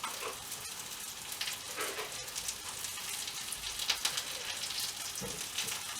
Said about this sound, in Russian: Вот, пока жарятся бананы